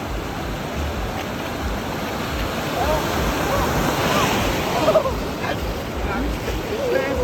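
Ocean waves washing onto a cold Pacific beach, a steady broad surf roar with wind noise on the microphone and voices talking over it.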